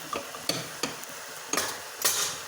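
A spoon scrapes and stirs coriander, red chilli and turmeric powders in a hot pan, five or so distinct strokes over a low sizzle, close and fairly quiet.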